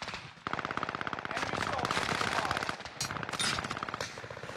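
Gunfire in a Call of Duty Modern Warfare match: loud, dense bursts of rapid automatic fire with a brief pause, close and sharp, with occasional single shots near the end.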